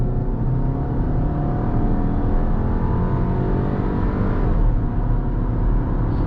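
A 2021 Volkswagen Passat's turbocharged engine pulls hard under acceleration, a continuous smooth drone rising gradually in pitch from inside the cabin, with no talk over it.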